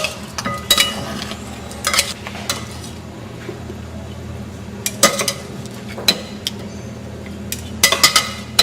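Sugar is stirred into a pot with a utensil, making intermittent clinks and scrapes against the pot in bursts over a low background hum.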